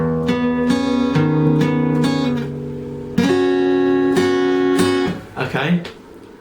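Slow guitar chords for a song ring out and sustain, restruck a few times, close and fairly loud before fading into scraping noise.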